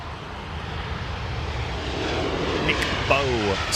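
A Qantas QF10 airliner bound for Perth at London Heathrow, its engines giving a steady, fairly loud roar that builds slightly, with a voice speaking over it near the end.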